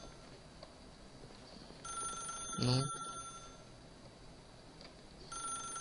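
Telephone ringing in the video game The Stanley Parable, a faint electronic ring heard in two bursts at a distance, with a brief spoken word in between.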